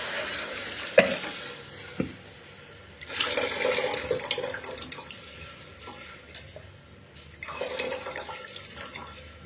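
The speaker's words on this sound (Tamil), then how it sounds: "இப்போ ரசத்தை அந்த புளிஞ்சி வச்சு சாறு ஊற்றுறோம்" Tamarind extract poured into rasam simmering in a pan gives a soft splashing pour over a low sizzle and bubbling, with a couple of faint clinks, close and fairly quiet.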